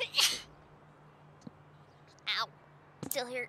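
A single sharp sneeze bursts out at the very start during an online Fall Guys gaming session, close and loud, followed after a pause by a brief click and then people talking.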